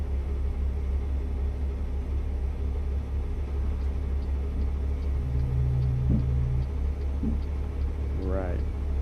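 A truck engine in American Truck Simulator rumbles low and steady throughout, a continuous drone on the highway, with a voice speaking faintly over it.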